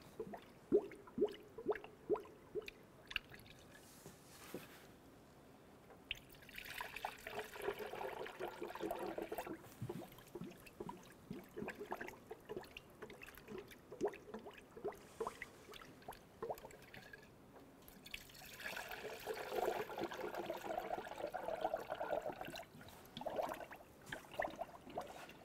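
Coolant poured into the coolant reservoir of a 2006-2013 Chevrolet Impala: soft, faint gurgling and trickling in two longer stretches, broken by quiet drips and handling noises, with no talking.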